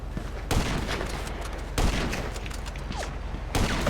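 Pistol fire from non-player characters in the video game GTA Online, heard as a few sharp broadband shots about two seconds apart over a steady background din.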